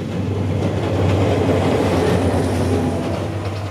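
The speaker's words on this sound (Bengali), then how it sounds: "এখানে ট্রেন আসে ঝড়ের বেগে" A train rushes through a railway level crossing, a loud, close, continuous rumble with rolling wheel clatter throughout, no voices.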